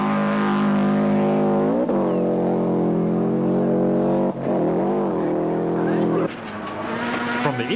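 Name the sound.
Subaru rally car driving through stage, in-car camera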